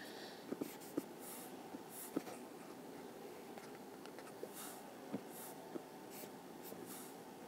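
Felt-tip or ballpoint pen drawing a line across a graph on paper, quiet scratchy strokes with a few small taps, faint and close in a still room.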